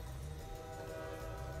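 A train horn sounds in a RWBY animated trailer, a sustained tone held over a loud, steady rumble of the moving train for the whole short stretch, with no talk.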